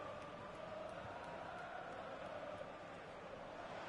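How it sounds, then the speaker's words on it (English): A stadium crowd in FIFA 17 cheers with a steady, distant, wash-like roar that holds level throughout, with no talking over it. "And the crowd really enjoying it."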